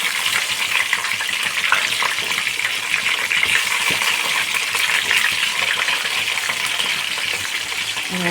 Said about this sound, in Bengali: এবার আমি পটলগুলোকে সুন্দর করে ভেজে নিচ্ছি